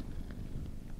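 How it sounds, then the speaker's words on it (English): Low, steady purring from an unknown creature taken for a cat, a continuous soft rumble close by with no talking. "Wait, is it purring?"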